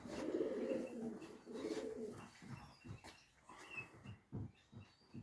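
Racing pigeons, young birds in a loft, coo in soft repeated throaty phrases, close and quiet, with a few rustles between calls.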